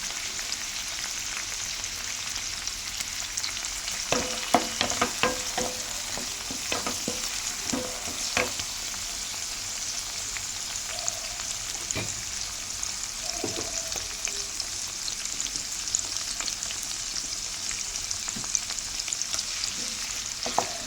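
Ginger garlic paste frying in a pan with fenugreek leaves and broad beans for a tomato curry, a continuous close sizzle broken by a run of sharp spoon-stirring clatters, with no voices.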